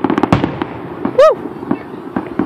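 4th of July fireworks burst nearby in quick crackling spread shots, with one rising whistle among them, while spectators cheer and talk.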